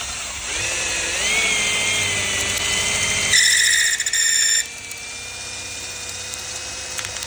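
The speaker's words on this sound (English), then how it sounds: "So we'll reattach our chisel cutter and see what difference that makes." A power-driven chisel cutter spins as it turns a wooden dowel to an 11/16 size, giving a steady whining drill-like tone that rises in pitch, then a brief harsher cutting burst, after which the tone drops back to a quieter hum.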